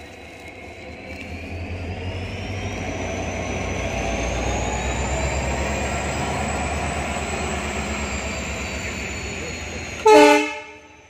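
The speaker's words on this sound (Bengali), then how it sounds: "রেলওয়ে ট্রেকে তখন ট্যুরিস্ট স্পেশাল ভিস্তাডোম এক্সপ্রেস ছুটে যাচ্ছিল" A Vistadome Express tourist special rushes along a railway track, its roar and high whine building and holding steady before a sudden loud, short horn-like blast near the end.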